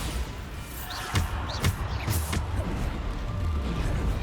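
Bombarda blast spell in the Hogwarts Legacy video game, several sharp thumping explosions in quick succession over a steady low rumble of combat.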